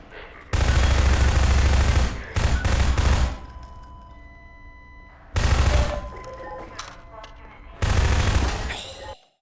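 Bursts of automatic gunfire in the video game Half-Life 2, three heavy loud volleys of a second or two each separated by quieter gaps, with no voices.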